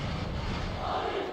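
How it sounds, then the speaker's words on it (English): A dense, steady roar of a stadium crowd in the eFootball video game, a broad wash of massed voices humming loudly and evenly with no break. "There's a real expectant buzz in the stadium"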